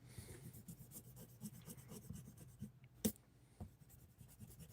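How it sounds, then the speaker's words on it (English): Soft, steady scratchy rubbing strokes of an eraser rubbing out pencil on paper, in a repeating back-and-forth rhythm, with one brief sharp tap partway through. No voices. "Alright, where was I? I was erasing."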